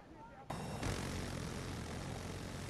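A helicopter flies in a video game, its engine and rotor noise cutting in abruptly as a loud, steady broadband roar that holds for the rest of the clip.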